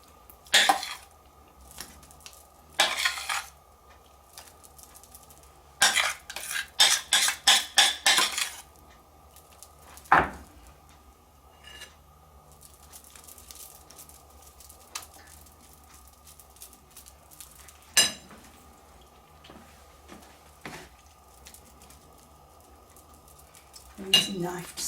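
Lemon meringue pie mixture spread over pastry with a knife: intermittent scraping and clinking of metal against a saucepan and dish, in short bursts and quick clustered strokes, fairly close, with quiet gaps between.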